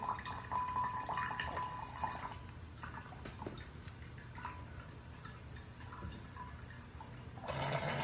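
Water trickles and drips steadily as it escapes through a straw from a deflating balloon setup, a soft continuous wet flow with small splashy drips, close and moderately quiet, and no one talks.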